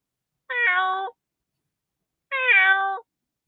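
A person imitates a cat with two clear, close meows about two seconds apart, each drawn out and falling in pitch, with silence between them.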